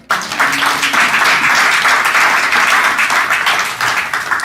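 A church congregation breaks into sustained, loud applause and cheering to acclaim the Lord, a dense wash of clapping that holds steady from start to finish.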